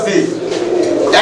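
Fancy pigeons cooing at a low-priced bird sale, a soft, steady murmur of coos close by that runs under people talking.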